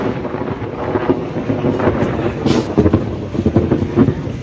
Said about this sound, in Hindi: आ गई बारिश